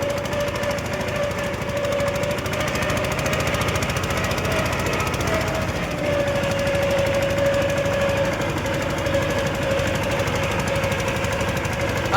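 A Shri Ghanshyam thresher works through green groundnut plants, running as a loud, steady mechanical drone with a sustained whine and rattling vibration, continuous and close throughout.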